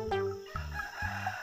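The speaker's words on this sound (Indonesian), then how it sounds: "ini ayam jago, teman-teman" A rooster crows in short, repeated bursts, three close harmonic calls in quick succession, loud and near with nothing else over them.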